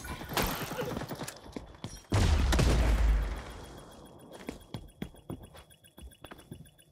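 Shotgun blasts from a shotgun class in XDefiant open beta, one heavy close boom followed by scattered sharper shots and clanks, no talking.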